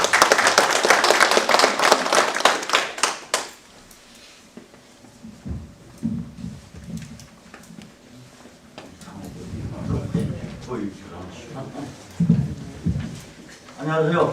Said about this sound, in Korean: 힘찬 박수 한번 부탁드립니다.